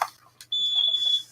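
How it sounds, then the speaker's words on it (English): A buzzer fitted inside a homemade geophone gives a steady, shrill electronic tone. It sounds for just under a second, loud and close, after a few soft clicks. "I put a buzzer in my one."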